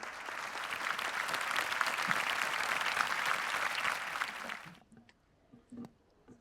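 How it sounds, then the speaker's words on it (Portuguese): Sustained applause from a seminar audience at a distributed solar generation event, a dense steady clapping that runs for several seconds, then stops abruptly, leaving a few scattered claps and faint room noise. "Uma salva de palmas, gente."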